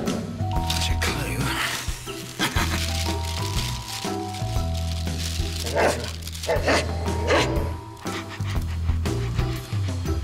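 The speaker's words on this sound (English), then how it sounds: "Stupid dog." A dog barks and yips in several short bursts amid a busy television drama scene with music and people speaking throughout.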